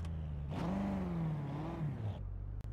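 A car engine in the racing game Forza Horizon 3 loudly revs with a wavering whine, then drops and cuts out as it stalls, leaving near silence.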